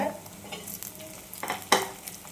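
Food sizzles in a hot pot with stirring scrapes, then a sharper burst of sizzling rises near the end as tomatoes are added for a dried-fish curry.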